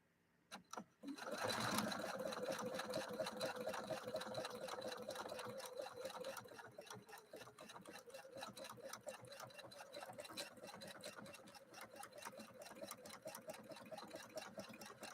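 A Husqvarna Viking Designer sewing machine runs a dense heirloom decorative stitch, starting with a few clicks and then hammering on in a loud, fast, steady rhythm from close by.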